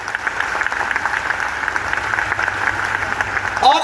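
An indoor crowd at a career-guidance program in Pukhrayan, Kanpur, gives steady, dense applause, loud and close throughout, with no talking over it.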